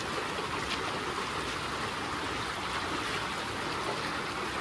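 River water rushes steadily through a Utah slot canyon at Kanarra Falls, a dense, continuous hiss and burble close by, unbroken for several seconds with no talking.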